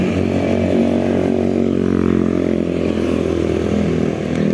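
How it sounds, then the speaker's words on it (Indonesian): A motorcycle engine idles and runs steadily nearby while being parked, a continuous low mechanical drone with no speech. "saya mau parkirin motor dulu."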